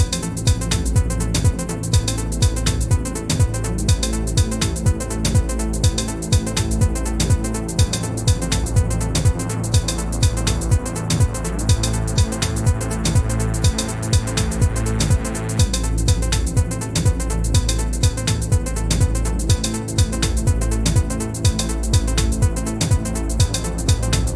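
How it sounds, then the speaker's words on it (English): A deep, rhythmic analog synth bass line in an Afro tech house track pulses steadily and loudly through a full electronic mix, with no voices. "the next thing I added onto the song was actually another bass line."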